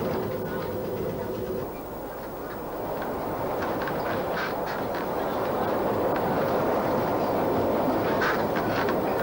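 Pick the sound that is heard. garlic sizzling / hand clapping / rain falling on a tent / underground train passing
underground train passing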